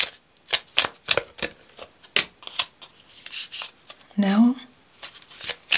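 Tarot cards are shuffled in rapid, papery riffles and slaps, close and fairly loud, in irregular bursts, with a brief spoken word midway.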